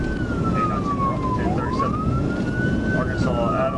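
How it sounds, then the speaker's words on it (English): Police car siren wailing during a pursuit, heard from a dashcam, rising and falling steadily over road and engine noise with faint radio chatter underneath. "when he hit the lights and sirens, the driver took off"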